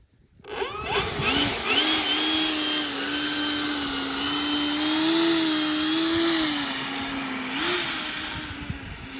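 Electric motor of an E-flite Draco RC plane spooling up from silence into a steady, rising whine that wavers in pitch as the throttle moves, loud and close with no talking.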